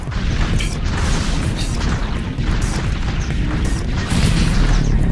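A charged shotgun fires pellets in the video game Sanctum, producing a loud, dense roar of booming blasts and crackling impacts that runs without pause throughout.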